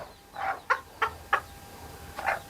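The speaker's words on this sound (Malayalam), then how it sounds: "ഇപ്പൊ ഇത് അടയിരിക്കുന്നല്ലേ? അടയിലുള്ള കോഴിയാണ്." A brooding native hen, about two and a half years old and from an old lineage, sits on her eggs and utters a series of short, close clucks, four or five spaced bursts with quiet gaps.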